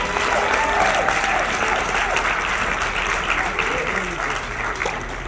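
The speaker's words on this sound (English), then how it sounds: "a round of applause" Audience applause fills a hotel conference hall at a Hyperverse presentation, a dense, steady wash of clapping throughout with faint voices mixed beneath.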